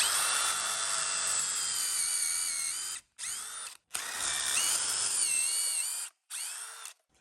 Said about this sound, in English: Then we can go ahead and drill our holes.